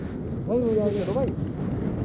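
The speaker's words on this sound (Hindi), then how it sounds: "यहाँ जबरदस्त वाली हवा चल रही है" Strong wind gusting across the high Shinkula mountain pass on the Keylong–Jispa highway at about 16,580 feet, a steady roaring rumble buffeting the microphone throughout, with a voice talking over it partway through.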